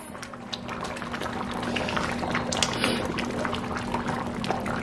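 Seafood gumbo with crab and sausage simmering in a pot, a close bubbling, burbling boil with dense liquid pops that swells slightly louder midway, no talk.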